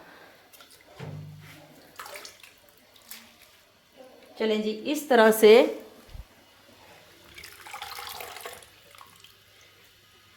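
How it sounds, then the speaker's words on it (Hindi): Mustard greens, spinach and fenugreek are rinsed in water in a home kitchen, with faint trickling and a louder burst of splashing midway, while someone talks over it in Hindi. "अच्छी तरह से इसको वॉश करना है।"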